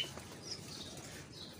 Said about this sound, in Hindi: ये सारे येलो तोते हैं